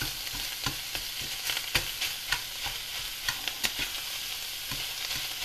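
Meat stirred and browning in a little avocado oil in a pan, a steady sizzle broken by repeated scraping clicks of the utensil against the pan, with no talking.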